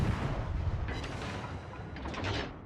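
Warship guns firing in a World of Warships-style naval battle game, aimed at a Hindenburg cruiser; dense rumbling booms and artillery blasts roll continuously, with sharper bursts near the middle and end.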